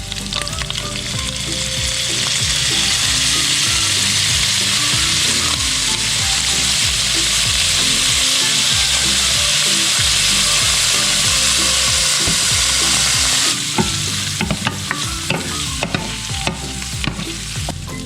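Shredded chicken thigh stir-fried with soy sauce in oil for Filipino pancit guisado, a loud steady sizzle with rhythmic scraping and stirring strokes throughout, softening near the end into scattered clinks and crackles.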